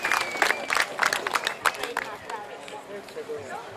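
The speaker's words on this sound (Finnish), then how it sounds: "anneta jo aplodit tässä vaiheessa" Outdoor audience at a firewood-splitting contest at the Anianpelto market in Asikkala claps in bursts. Scattered, uneven applause fades toward the end amid crowd murmur.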